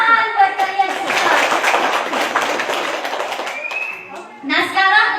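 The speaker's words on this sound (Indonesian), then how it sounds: "Tepuk tangan buat kalian semua." Schoolchildren clap together at an elementary school, a brief ragged burst of handclaps that rises and trails off, with a voice speaking over the start and again as the clapping ends.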